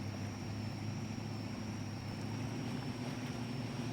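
The 2023 F500 truck in SnowRunner runs its engine at full throttle while stuck in mud, giving a steady, loud drone with a constant high whine and no letup.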